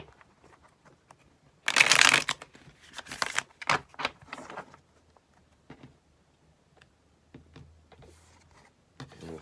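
A burst of tarot card shuffling, a quick riffle followed by softer flicks and taps of cards being handled, then quiet with scattered small clicks.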